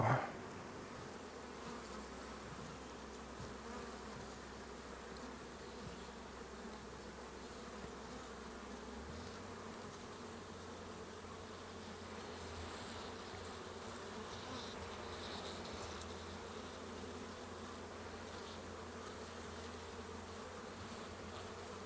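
Honeybees buzz steadily and densely around an open frame of a nucleus hive full of honey and capped brood, a close, continuous insect drone with no talk.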